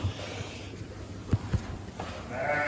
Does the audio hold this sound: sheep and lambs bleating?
yes